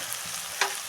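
Ground spices frying in oil in a pan after tomato and onion, a steady soft sizzle with one brief sharp scrape or stir partway through, no talking.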